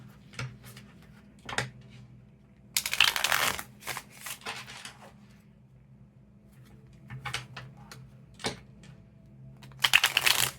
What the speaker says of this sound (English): Shuffle this a few times.